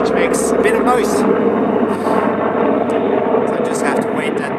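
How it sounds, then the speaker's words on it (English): A helicopter drones overhead outdoors, a continuous loud rotor rumble with a pulsing low beat that holds steady, with faint talk mixed in beneath it. "I just have to wait the helicopter out."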